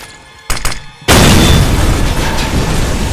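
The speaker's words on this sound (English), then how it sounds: "just throw the grenade." Grenade blast in the Counter-Strike video game: a couple of sharp pops, then a sudden loud boom that settles into a sustained, roaring rumble filling the rest of the clip.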